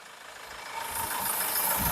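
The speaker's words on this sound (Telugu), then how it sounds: "వెహికల్ ఇంజిన్ బీటింగ్ కూడా చాలా స్మూత్ బీటింగ్ అండి" A Mahindra XUV500 W11 diesel engine idles with a steady, low mechanical hum that swells slightly after a moment, close and unaccompanied by voices.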